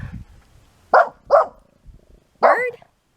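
A dog at a campsite by Heron Lake State Park, New Mexico, gives three sharp barks close by, two quick ones in a row and then one more after a short pause, with nothing else in between.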